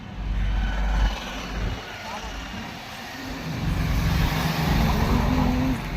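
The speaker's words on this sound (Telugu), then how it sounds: "ఆటోలో మా ఆటోలోనే మేము వెళ్తున్నాం" An auto rickshaw carrying several passengers rides through traffic, its engine droning and swelling over constant road noise, with voices audible at moments.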